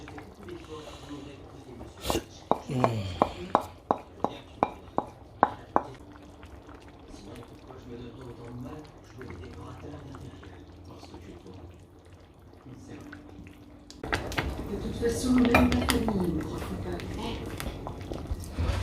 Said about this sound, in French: Il faut y ajouter de l'eau chaude pour battre le gombo.